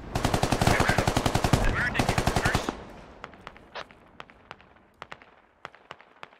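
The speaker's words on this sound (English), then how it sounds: "Lots of shots being fired and not really much of anything." Rapid automatic gunfire from the video game Squad rattles loud and close in a sustained burst for over two seconds, then gives way to scattered single shots and distant pops at irregular intervals.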